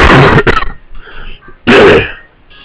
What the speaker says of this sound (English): you might hear me cough here and there